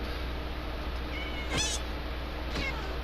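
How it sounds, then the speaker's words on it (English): Two cats in Minecraft meow one after the other, separated by about a second, each a short rising-falling call standing out over a steady background hiss. "I can kill these cats, but I don't."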